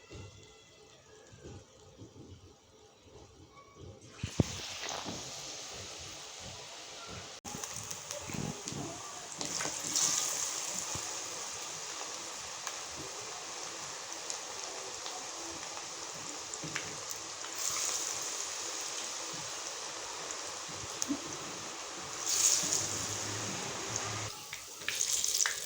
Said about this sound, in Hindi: पकौड़े बन रहे हैं आलूओं के।